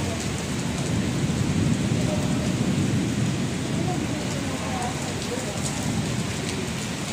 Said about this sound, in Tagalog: Ayan na, bumuhos na po yung ulan, guys. Napakalakas.